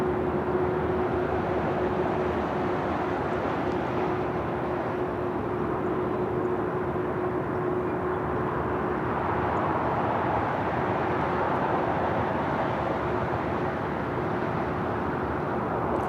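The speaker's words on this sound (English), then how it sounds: "Delta 767-400ER coming up from JFK, flight 742" A Delta Boeing 767-400ER airliner arriving from JFK at LAX produces a steady, continuous jet roar with a faint tonal whine, constant and moderately loud throughout.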